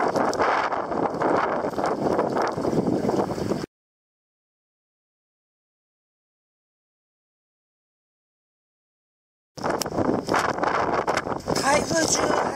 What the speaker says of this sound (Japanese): 台風18号接近、すごい風です。